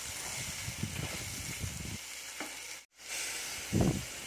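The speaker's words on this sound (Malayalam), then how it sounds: "ഇടയ്ക്കൊന്ന് ഇളക്കി കൊടുക്കാൻ മറക്കരുത്. എണ്ണയിൽ കിടന്ന് തന്നെ മുരിഞ്ഞു വരണം." Sliced ivy gourd frying in oil and stirred, a close steady sizzle with scraping stirs, a short break, then a louder scrape at the end, no talking.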